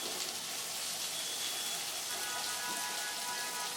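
Sliced onions hit garlic frying in hot oil, producing a dense, steady, crackling sizzle that stays loud and even throughout.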